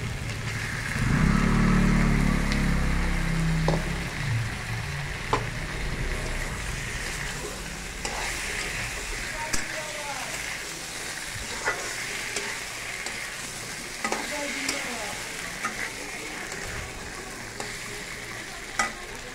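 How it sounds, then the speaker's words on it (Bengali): Prawns added to cooked spice masala with fried pointed gourd sizzle steadily in a pan, a low thump and rumble at the start, then constant frying hiss punctuated by sharp scraping stirs, close and without speech. "মশলা কষানো হয়ে গেছে, এতে চিংড়ি মাছ একটু দিয়ে দিলাম"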